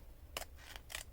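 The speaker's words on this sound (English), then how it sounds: "I'm going to cut this straight down where this line is here" Scissors snip through vintage pleated curtain fabric, two or three quiet, crisp cuts in quick succession against a soft room hush.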